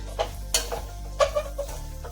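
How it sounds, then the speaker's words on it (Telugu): A spoon stirs a cluster bean and garlic curry in a pan after coriander powder goes in, with a few close, separate scrapes and metallic clinks over a faint sizzle. "కొద్దిగా ధనియాల పొడి వేసుకొని బాగా కలుపుకొని"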